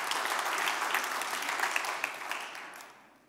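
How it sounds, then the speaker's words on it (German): Audience applause for a presenter at a Bavarian digital summit: a dense, even patter of many hands clapping in a hall, steady at first and then fading out toward the end. "Bitte schön, ein Applaus"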